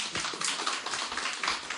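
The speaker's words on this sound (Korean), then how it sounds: "박수 한번 칩시다" Clapping from a church congregation during a Sunday service, a dense burst of many hands with crisp individual slaps audible throughout and no speech on top.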